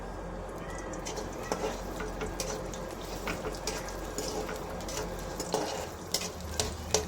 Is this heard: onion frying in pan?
yes